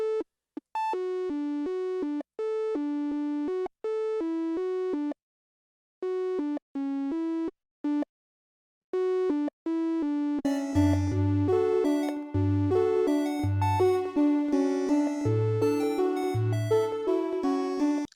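A bright synthesizer melody of short staccato notes in FL Studio, soon thickened by a gritty overdriven layer and a punchy low bass pulse joining in.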